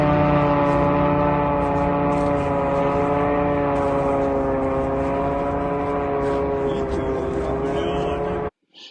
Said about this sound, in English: Here's another video showing one of these drones flying over the area in Ryazan.